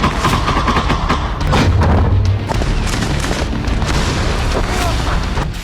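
Heavy shelling in the Ukraine war booms and rumbles in loud, overlapping blasts, a dense continuous roar with sharper cracks scattered through it and a deep swell near the middle.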